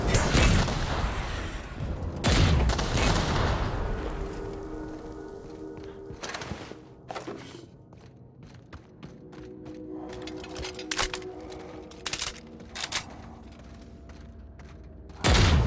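Gunfire in the video game The Outer Worlds, starting with loud booming shots and heavy impacts, then thinning into scattered sharp cracks and clanks over a low, steady ambient hum.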